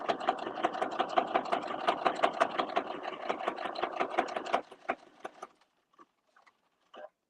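A sewing machine stitches fabric in a fast, even run of close mechanical clatter for about four and a half seconds, then winds down to silence broken by a few faint, isolated clicks.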